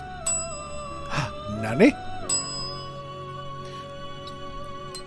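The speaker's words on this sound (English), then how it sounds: "now we can ring the bell every time we hear inmate" A small handheld bell is rung in a room, two bright clear dings with long ringing decay a couple of seconds apart, while someone speaks briefly between the strikes.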